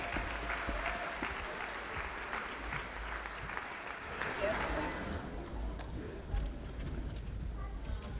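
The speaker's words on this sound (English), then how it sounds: "Please give a round of applause." An audience at the Project Hope / Strut For The Cure 2019 event gives a sustained round of applause, dense, steady clapping that fills the room and holds level for several seconds before gradually thinning.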